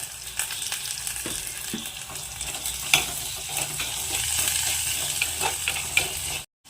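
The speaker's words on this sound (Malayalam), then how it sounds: "ഇനി ഇതൊന്ന് നമുക്ക് നന്നായിട്ടൊന്ന് വഴറ്റിയെടുക്കാം" Salted onions sizzle steadily in a hot pan with a few scraping stirs of a utensil; no one speaks.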